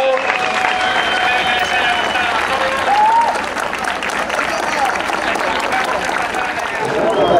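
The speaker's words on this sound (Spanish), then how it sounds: "Un aplauso para esta recreación." Spectators at a military reenactment battle applauding, a broad, sustained roar of clapping from a large outdoor crowd, loud and continuous, with some voices calling out underneath.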